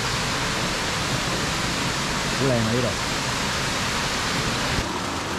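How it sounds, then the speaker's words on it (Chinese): A waterfall at Tai Shing Stream pours in a steady, full roar of rushing water that fills the whole scene, with a voice speaking briefly over it. "影一影一條咁壯麗嘅瀑布俾大家睇下"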